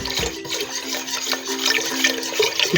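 Vegetable broth is poured into a pan over very low heat while making vegan stuffed squash, a steady close trickling and splashing stream of liquid lasting a few seconds without speech.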